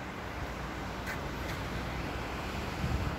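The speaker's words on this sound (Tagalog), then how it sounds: "medyo maalon talaga at mahangin" Rough Atlantic Ocean surf at high tide with blustery wind, a steady low roar of waves and gusts buffeting the microphone, fairly faint and continuous with no voices.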